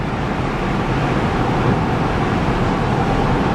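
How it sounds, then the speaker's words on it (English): Steady broadband wind and road roar inside a 2009 Smart Fortwo Passion coupe cruising at about 70 mph on the highway, a constant, even rush with no talking. "Wind noise is average."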